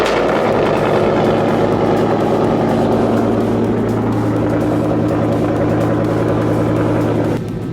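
A wrecked Ford Mustang GT is cranked for a first start attempt, a loud steady engine drone with strong low rumble running continuously for about seven seconds before cutting off abruptly at the end.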